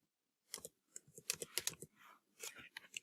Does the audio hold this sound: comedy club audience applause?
no